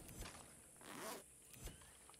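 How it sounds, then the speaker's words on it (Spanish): A zipper sound effect from the video game Far Cry 6: a couple of quick zips and a longer pull, quiet against a steady hiss of background noise. "El sonido de la cremallera es brutal"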